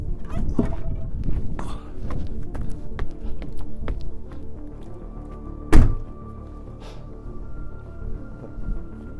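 A heavy thunk of a door shutting stands out midway through steady low rumbling and scattered knocks and taps.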